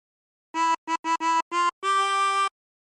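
A 24-hole tremolo harmonica plays a Joy to the World phrase as six notes: five short separate blows or draws followed by one longer held note, clear and close with no talking.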